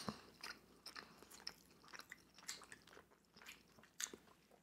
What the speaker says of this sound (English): Chewing and talking, not a good combination.